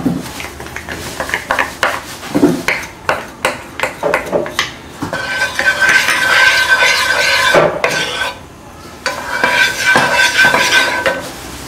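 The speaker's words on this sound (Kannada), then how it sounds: "ಪ್ಯಾನ್ ಅಲ್ಲಿ 1/2 ಕಪ್ ಅಷ್ಟು ತುಪ್ಪ ಆಡ್ ಮಾಡ್ಕೊಳ್ಳೋಣ" Ghee goes into a pan on the stove for a milk powder sweet, with a run of rhythmic metallic scrapes and stirring strokes, then a louder continuous sizzle and clatter, close and alone.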